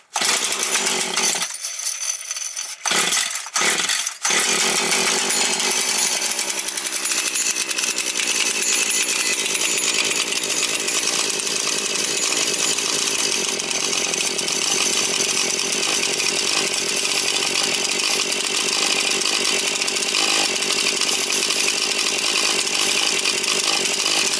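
A Husqvarna 130 chainsaw coughs through a few brief sputters, then runs in a loud, continuous, buzzing engine drone close by.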